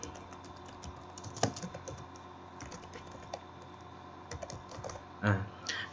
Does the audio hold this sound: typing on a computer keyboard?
yes